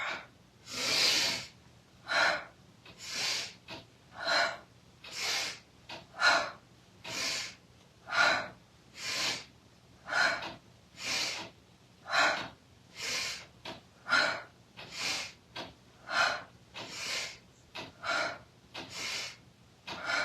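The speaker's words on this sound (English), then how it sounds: "make the breath a little more forceful. Inhale through the nose, exhale out the mouth." Forceful yoga breathing, drawn in through the nose and pushed out through the mouth, in a steady run of about twenty close, loud breath strokes with no talking.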